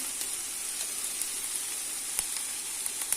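Peppers and eggplant frying in a pan, a soft, steady hiss of sizzling oil with scattered small pops and crackles, fairly faint and uninterrupted, with no one speaking.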